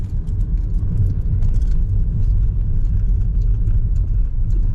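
A car drives through Macau and heads down into a parking garage, giving a steady low rumble of engine and road noise from inside the cabin, with no voices.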